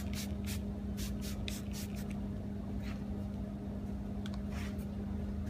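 A steady hiss of carbon paint-coating chemical spraying from a nozzle to soak down an area runs throughout, with a constant low hum and a few sharper spurts.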